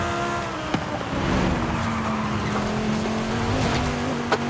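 A 2012 Lotus Elise S in Forza Horizon 5 brakes hard, its engine holding a steady hum while tires squeal and skid in a sustained, close screech with a couple of sharp clicks.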